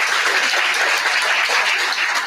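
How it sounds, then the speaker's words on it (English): A dense, steady round of audience applause at a book launch, many hands clapping at once, loud and continuous throughout with no talking over it. "So please, a big round of applause for everybody who helped"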